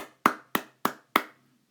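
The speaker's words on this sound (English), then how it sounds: "Let's give you a big round of applause." Four sharp, evenly spaced hand claps ring out close and loud against near silence, each with a short decay, too few to sound like a full round of applause.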